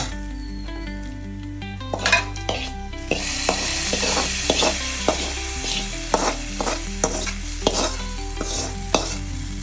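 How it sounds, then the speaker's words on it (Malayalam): Turmeric tempering sizzles in a pan for a homestyle drumstick and tapioca curry, with a spoon scraping and clinking in repeated strokes against the pan under steady background music. "അമ്മ ഒരു അല്പം മഞ്ഞപ്പൊടി താളിപ്പിട്ട് കൊടുക്കുന്നത്"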